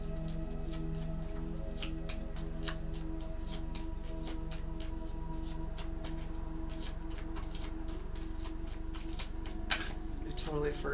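Quiet card shuffling, a run of soft riffling flicks and snaps over a steady low background hum.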